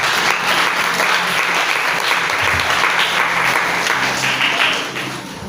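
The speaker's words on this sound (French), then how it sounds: "Acclamez pour le Seigneur" Church congregation at a religious seminar breaks into loud, sustained applause and clapping, steady throughout and tapering off slightly at the end.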